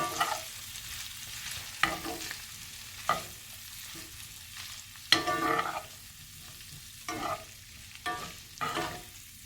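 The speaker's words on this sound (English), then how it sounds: "We're really just tossing it in this garlic butter to bring all the flavors together from the seasoned steak" Seasoned steak bites tossed in garlic butter in a pan, with a steady low sizzle broken by sharp scraping stirs and tosses every second or two, close and alone.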